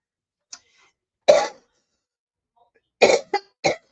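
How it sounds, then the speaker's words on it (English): One person coughs close by: a faint click, then a single harsh cough, a pause, and a quick burst of three coughs in a row, with silence in between. "I don't know why I'm coughing."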